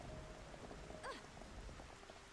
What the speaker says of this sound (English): I'm tired of it raining.